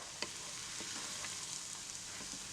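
Cluster beans and onions sizzling in hot oil, a constant faint frying hiss with a few soft stirring scrapes and taps, quiet and without speech.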